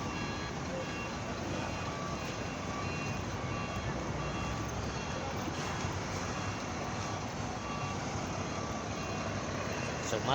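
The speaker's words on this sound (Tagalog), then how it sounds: "So napakaraming truck talaga rito." Heavy trucks loading at Matnog port, a steady dense rumble of idling and moving engines with a faint reversing beep in the background, continuous and fairly loud throughout.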